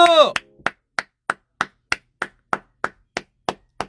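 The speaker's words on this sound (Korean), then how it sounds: "박수!" One person claps hands alone and up close during an Instagram live stream, about ten crisp, evenly spaced claps following a brief burst of speech.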